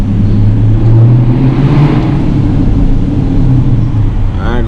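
A car's exhaust rumbles and burbles at close range on the street, a loud low throbbing drone that swells briefly as the engine revs, with a voice heard faintly near the end.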